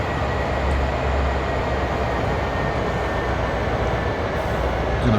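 An EMD SD40-2 diesel freight locomotive hauling a heavy CSX train in the Train Sim World video game produces a continuous loud rumble and rolling rail noise, steady throughout with no talking.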